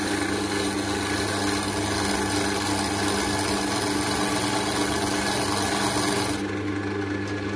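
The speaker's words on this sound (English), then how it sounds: "I'm just trying out this new tool, this carbide cutter that I made." A homemade carbide cutter scrapes an oak handle spinning on a woodturning lathe, giving a steady, loud rasping cut with the motor's hum underneath, which carries on alone for about six seconds before the cutting eases off.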